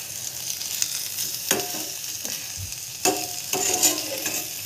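Brinjal slices sizzle in a pan and are flipped. The frying hiss is soft and continuous, broken by a few distinct scraping turns of the spatula, with no talking.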